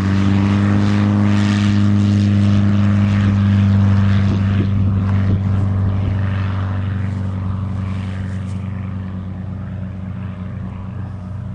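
Onex light aircraft with a propeller flying on an airspeed calibration run, a steady loud droning engine hum with strong harmonics that slowly fades as the plane moves farther off.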